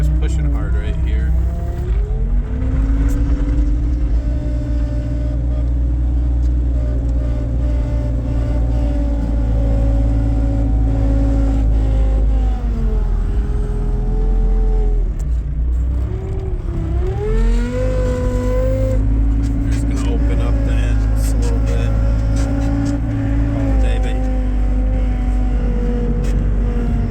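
A Merlo telehandler's diesel engine warms up while pushing snow: a steady droning hum whose pitch rises and dips as the revs change, with faint background noise over it.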